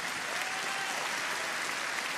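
An audience at a political rally in Cannes applauds, a dense and even wall of clapping heard from a distance at fairly low level.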